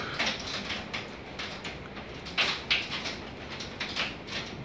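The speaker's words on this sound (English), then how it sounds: "It's all the hail whacking off the..." Hail striking the roof of a house in August, heard inside as scattered sharp knocks and clacks over a soft rushing background, with a few louder individual hits standing out.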